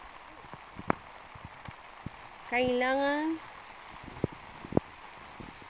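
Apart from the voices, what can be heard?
rain falling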